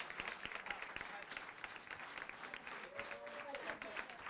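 Faint crowd applause at a bench press championship honoring a gold medal winner, scattered claps rising and falling, with some voices and a few whistles mixed in.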